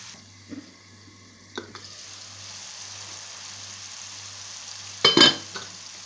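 Onion, green pepper and meat frying in a pan, a steady close sizzle broken by a few scraping stirs and a louder clatter of the utensil near the end.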